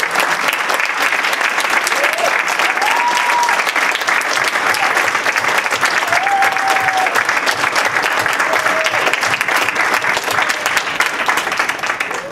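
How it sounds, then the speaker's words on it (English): An audience applauds after a talk, a long, even wash of dense clapping from a large room that holds at a steady level for over twelve seconds. "let's have a round of applause for our two amazing speakers"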